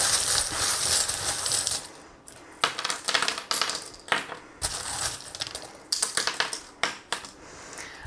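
Small metal charms are shaken and dropped onto a surface during a tarot reading, a run of close jingling clinks and clattering taps in irregular bursts after an initial rustling shake, with no voices.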